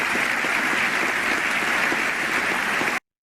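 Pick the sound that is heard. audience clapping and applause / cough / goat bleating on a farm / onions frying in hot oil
audience clapping and applause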